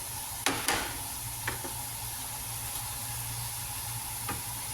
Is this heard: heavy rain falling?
no